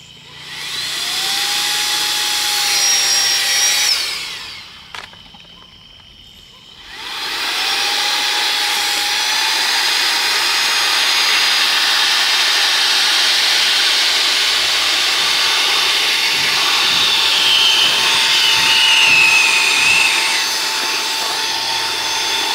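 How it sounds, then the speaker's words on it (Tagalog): A loud electric blower inflating an air mattress runs with a steady roaring hiss, cutting out briefly for a couple of seconds before starting up again and droning on. "Malaki at mahirap i-blow kaya nagdala tayo ng blower."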